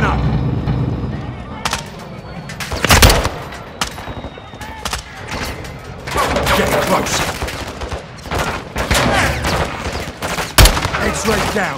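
Gunfire and RPG fire in the Call of Duty Modern Warfare 2 video game, with dense overlapping shots and several loud explosive blasts under shouted voices throughout.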